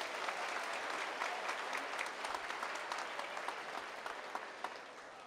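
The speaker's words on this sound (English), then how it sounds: "Let's give them a round of applause again as they leave the stage area" Steady applause from a commencement audience at Oregon State University for the university pipe band as it leaves the stage, a continuous, fairly distant patter of many hands with no pauses.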